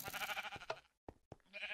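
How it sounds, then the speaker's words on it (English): Sheep bleating in the Minecraft video game, a few short game bleats with busy game sounds around them, then a brief gap and more game noise. "there's a sheep there that you just killed"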